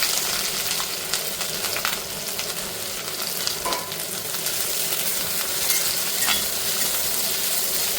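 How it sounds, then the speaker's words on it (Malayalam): Crushed garlic, shallots and dried red chili sizzle and crackle steadily in hot oil with mustard seeds for a Kerala parippu fry, a continuous close frying hiss with occasional stirring clinks and no talk. "കടുക് ഒന്ന് പൊട്ടി വന്നാൽ ഇതിലേക്ക് വെളുത്തുള്ളി, ചെറിയുള്ളി, വറ്റൽമുളക് കൂടിയിട്ട് ചതച്ചെടുത്തതാണ് ഇത്. ഈ ചതച്ചെടുത്ത കൂട്ടിനെ ഇതിലേക്ക് ഇട്ട് കൊടുക്കാം."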